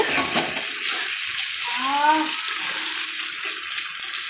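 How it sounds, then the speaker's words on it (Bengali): Water is poured into a pot of chicken and potato curry, a steady close splashing hiss with a brief voice-like tone partway through. "তো এবার জলটা দেব।"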